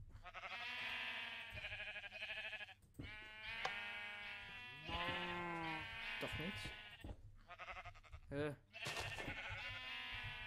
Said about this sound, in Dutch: Zit die schapen vaak boven?